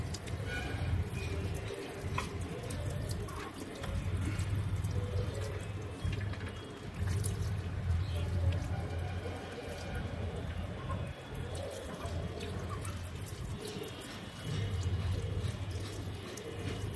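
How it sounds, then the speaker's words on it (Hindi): Tap water runs and splashes while an item from a tortoise's enclosure is rinsed under it, a steady close pour with some rising and falling in level and a little talk over it. "इसको थोड़ा धो देता हूँ, ताकि कोई कीड़ा वीड़ा अगर बैक्टीरिया हो तो वो साफ़ हो जाए"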